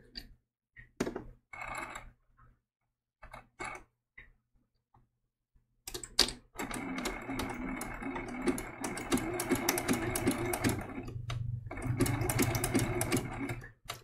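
Short bursts, then a long sustained run of a sewing machine zigzag stitching a baby giraffe applique, close and clear with rhythmic needle ticking and a brief pause near the end.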